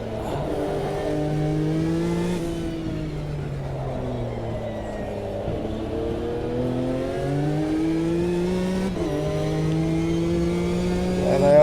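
In a historical endurance racing video game, LMP race cars scream past, their engines rising and falling in pitch across several gear shifts, loud and close, with no talk.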